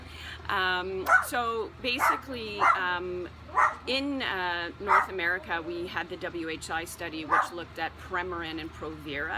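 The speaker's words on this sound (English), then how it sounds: "Sorry about my dog barking in the background." A dog barks and yips repeatedly in the background, fairly close, mixed under someone talking continuously.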